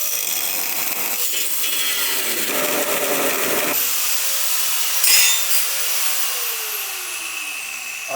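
A power tool cuts into the chassis of a Porsche 997, a harsh, continuous grinding rasp close by, shifting in pitch as the blade bites, with a brief louder squeal midway and no talking.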